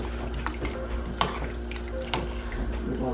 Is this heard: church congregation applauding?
no